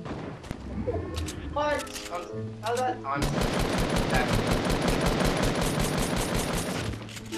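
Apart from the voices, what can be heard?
gunfire shots in a video game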